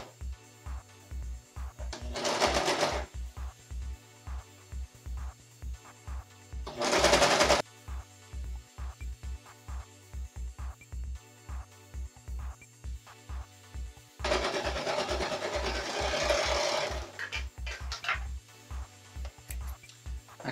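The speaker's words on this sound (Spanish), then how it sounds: "ahora con la overlock lo que vamos a hacer es coser por donde vaya a pasar mi dedo solamente" An overlock sewing machine stitches jogger pants fabric in three short runs. Each run is a loud rapid whir, with steady ticking and clicking in between.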